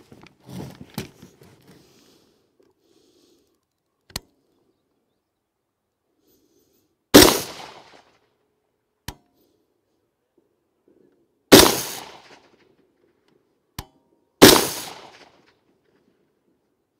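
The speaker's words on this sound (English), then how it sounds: "We're gonna go ahead and put 5 more rounds downrange." Five rifle shots fired downrange at a target on an iron-sight zero range, three of them loud sharp cracks with short decays spaced a few seconds apart and two fainter distant pops, with quiet between.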